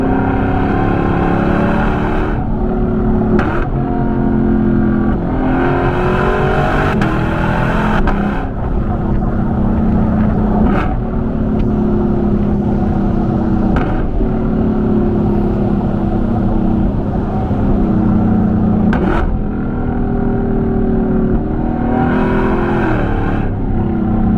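Deep, rumbling V8 of a 2022 Lexus LC500 heard from inside while driving, a steady loud drone rising and falling through several gear changes and revs, with brief pauses between pulls.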